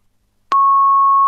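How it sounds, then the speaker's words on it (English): After a brief click, an answering machine gives a single steady electronic beep that starts abruptly and holds loud and clear to the end, with no other sound. "The answer phone."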